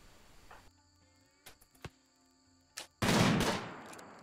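Gunfire in the video game RimWorld, a few scattered sharp shots followed by a louder, longer burst of noise near the end.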